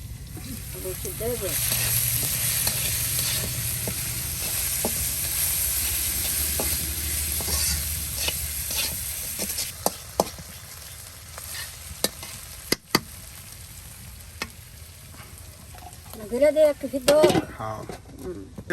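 Potatoes frying in a pan in a rural kitchen give off a steady close sizzle with occasional scraping clicks from stirring, while voices talk intermittently toward the end.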